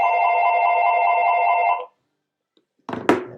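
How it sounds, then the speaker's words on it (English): A telephone rings with one steady, close electronic trill lasting about two seconds. Silence follows, then a short burst of handling noise. "And my phone rings."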